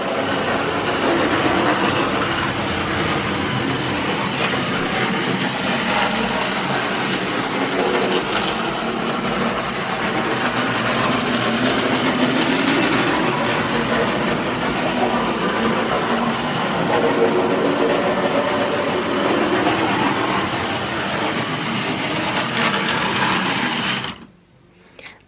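Vintage toy train set running laps on its track, a loud continuous mechanical whirring and clatter that holds steady for over twenty seconds, then cuts off abruptly near the end.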